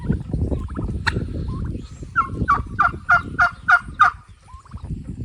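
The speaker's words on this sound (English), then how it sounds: "Pretty sure those are farm turkeys." Farm turkeys gobbling on rural property, a quick run of loud rattling gobbles repeated about half a dozen times in a row, close by, with rustling and brief movement noise before them.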